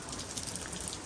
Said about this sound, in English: Zoe, you can't be out in the rain.